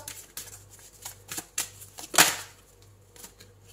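Tarot cards are handled and drawn in a series of soft, papery flicks and snaps, faint and close, with one sharper slap near the middle.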